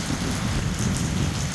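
Steady tropical rain falls in Vietnam, a dense, even hiss of drops on surfaces that runs unbroken from start to finish with no voices.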